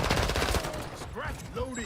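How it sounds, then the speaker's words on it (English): Bursts of automatic gunfire from a Call of Duty Modern Warfare II match, rapid rattling shots up close, mixed with game effects and faint background voices. "A rat-a-tat-tat of gunfire there."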